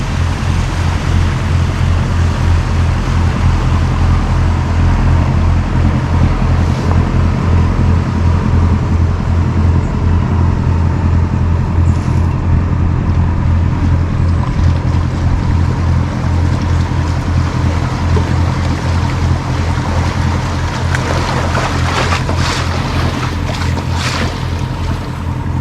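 Boats passing along the River Trent during a fishing match: a loud, continuous low engine drone with water wash and gusts of wind buffeting the microphone, with no voices.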